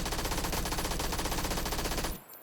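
Rapid continuous SMG fire in the PUBG video game, a dense loud automatic burst of shots lasting about two seconds before cutting off abruptly into quiet.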